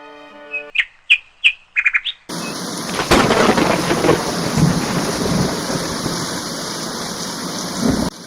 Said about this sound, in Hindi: अगले दिन जोरदार गर्जना के साथ बारिश होने लगी।